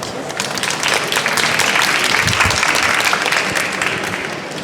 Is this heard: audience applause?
yes